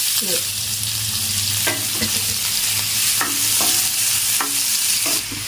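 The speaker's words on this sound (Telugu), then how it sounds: "ఉల్లిపాయలు బాగా వేగాలి" Onion pieces frying with cumin seeds and green chillies give a steady close sizzle, broken by several sharp scrapes of a spoon stirring the pan; no one speaks.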